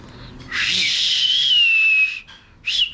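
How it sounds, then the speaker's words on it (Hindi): A person whistles with the tongue, making a long, close, airy whistle with a steady high tone, followed after a short pause by a brief second burst. "पहले तो मैं हर तरीके की सीटी बजा लेता था।"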